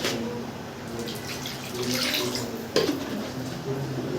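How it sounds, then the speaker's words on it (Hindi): Water runs and splashes into a cooking pan for Maggi noodles, a steady pouring wash with a brief louder splash near the end, no talk. "इसमें बहुत थोड़ा सा डालते हैं पानी"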